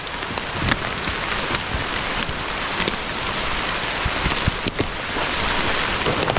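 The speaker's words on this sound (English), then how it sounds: "The rain has picked up. That thunderstorm's getting closer." Heavy rain pours steadily on surfaces around an abandoned house during a storm, a dense even hiss with scattered drop impacts and a faint low rumble suggesting the thunderstorm drawing closer.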